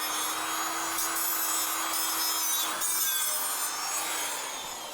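A cutoff wheel slicing through the exhaust pipe of a Jeep XJ Cherokee: a steady, harsh grinding whine that holds for several seconds, close and loud, with no voices.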